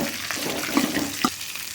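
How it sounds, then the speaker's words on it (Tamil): Green turkey berries (sundakkai) sauté in a pan with onions and green chillies, giving a soft steady sizzle broken by a few sharp stirring clinks and scrapes. "சுண்டைக்காய் கொட்டி ஒரு வதக்குறோம்."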